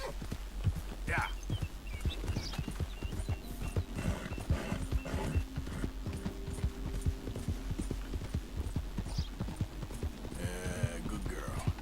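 Horse hooves galloping in the video game Red Dead Redemption 2, a steady rapid clip-clop that runs throughout at close range, with a brief whinny, under a player talking.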